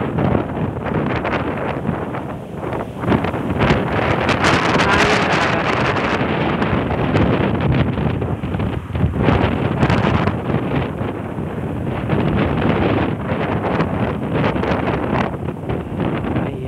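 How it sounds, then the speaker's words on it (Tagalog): Strong wind buffets the microphone in a constant loud roar, gusting and rumbling throughout with no voices heard. "Hangin talaga."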